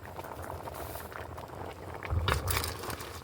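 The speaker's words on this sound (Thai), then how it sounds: "เดี๋ยวรอมันสุกจังได้ปรุงเลยพี่นงเอ้ย" Curry bubbling in a pot, a close, uneven burble of popping bubbles that swells louder near the end.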